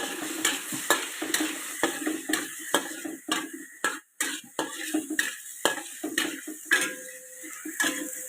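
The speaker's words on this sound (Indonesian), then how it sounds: "Kita tumis." Stir-frying in a pan on a stove: repeated scraping and clattering strokes of a utensil against the pan over steady oily sizzling, close and fairly loud, with no talk.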